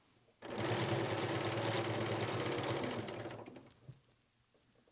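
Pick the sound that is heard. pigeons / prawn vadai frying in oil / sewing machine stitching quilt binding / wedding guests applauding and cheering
sewing machine stitching quilt binding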